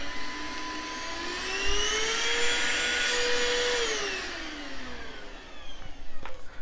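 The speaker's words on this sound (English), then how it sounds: "if you're looking for a handheld vacuum cleaner for your car" An IMINSO handheld car vacuum cleaner runs steadily on its own, a close, loud whine whose pitch rises and then drops off, with a brief thump midway and some handling clatter near the end.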